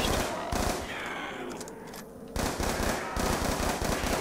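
A Galil rifle in Black Ops 2 zombies fires loud, rapid automatic bursts, two long strings of shots separated by a short pause.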